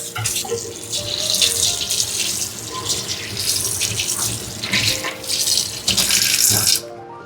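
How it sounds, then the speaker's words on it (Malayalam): Tap water runs steadily into a sink while kitchen items are rinsed under it, with splashing that varies as things are moved through the stream, close and continuous until it cuts off at the end. "ഇനി നമുക്ക് ജസ്റ്റ് ഇതൊന്ന് കഴുകി അതൊന്ന് ഉണക്കാനായിട്ട് വെക്കാമേ"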